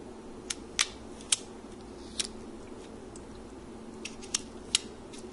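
A knife slices through crisp, hard home-saved potatoes, giving about eight sharp, crunchy snaps at uneven intervals over a steady low room hum, close and distinct.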